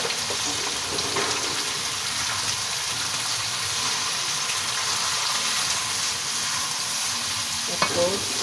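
Sliced carrot and chayote sizzle steadily in a hot frying pan with chicken, a continuous close frying hiss broken by scraping stir strokes and a brief clink near the end.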